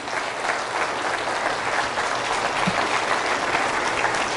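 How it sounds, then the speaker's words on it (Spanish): Loud, sustained applause from a church congregation during a Catholic Mass sermon, dense clapping filling the room evenly without any speech. "Fuertes aplausos a la palabra de Dios."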